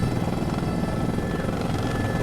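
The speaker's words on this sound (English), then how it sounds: "here is a helicopter in Microsoft Flight Simulator" A helicopter in Microsoft Flight Simulator gives a steady, close rotor-and-engine drone that holds at an even, loud level throughout, with no talking.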